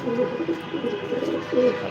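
Racing pigeons in a loft give soft, repeated cooing calls, close and moderately loud, in short rising and falling phrases.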